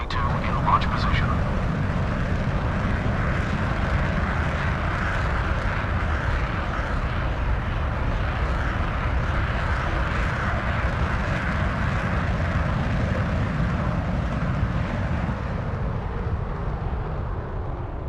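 Engines of an aircraft squadron in a video game, a steady loud drone running through the whole stretch while a voice talks over it.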